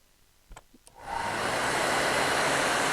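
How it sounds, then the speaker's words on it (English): A small heat gun blows on shrink wrap around a tumbler: a few faint clicks, then a loud, steady rushing hiss of hot air switches on and holds without voices. "And I got a little heat gun here. Let's plug him in."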